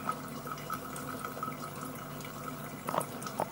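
Moonshine distillate from a wheat-and-sugar mash drips from a still with the boiler at 90 degrees, a faint steady trickle with light drips over a constant low hum.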